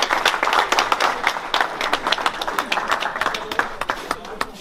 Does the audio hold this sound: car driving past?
no